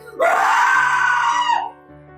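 A person lets out a single loud, sustained scream, rising sharply and holding for over a second before trailing off, with quiet room tone around it.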